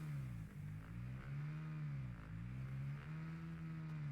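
A dirt motorcycle in the video game Fortnite drones steadily, its engine note wavering and dipping as it rides, heard alone and fairly quiet.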